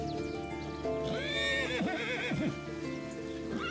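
A horse neighs loudly and close by in a long quavering whinny, with a few shorter snorting calls after it, over steady background noise.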